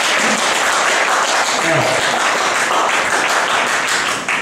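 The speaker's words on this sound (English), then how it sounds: "This guy's still on stage, but that means you should clap for him." Steady, loud applause rolls through a comedy show audience, a continuous crowd clapping with a brief voice heard amid it.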